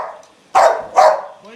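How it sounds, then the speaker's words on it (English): A boxer dog barks twice, loud and close, in two sharp bursts about half a second apart, with a brief voice-like sound near the end. "Why are you barking?"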